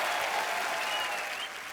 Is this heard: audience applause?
yes